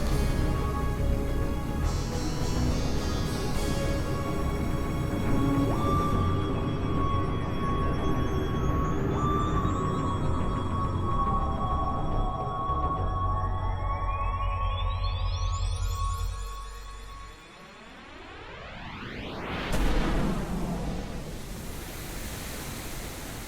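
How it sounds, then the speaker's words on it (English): Ambient engine-room noise aboard the TARDIS in a VR game: a dense, steady hiss and rumble with droning tones, then a sweeping whoosh that dips and swells back, loud and continuous without speech. "we are walking towards what is the engine room of the TARDIS. It's quite noisy in here"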